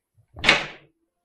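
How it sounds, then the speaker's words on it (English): A single short door noise, a muffled thump or knock rising and fading within half a second, close by in an otherwise silent indoor room. "Even my door likes to noise me."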